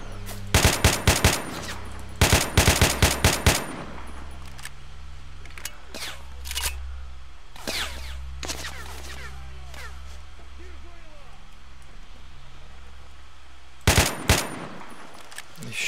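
Automatic rifle fire in the shooter S.T.A.L.K.E.R. comes in short, loud bursts of rapid shots, with long gaps of quiet ambience and scattered clicks between them, and a final burst near the end.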